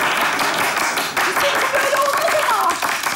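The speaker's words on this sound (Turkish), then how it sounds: "Alkışlı protesto." Studio audience at a comedy show clapping in protest, a dense sustained round of applause heard close alongside voices talking over it.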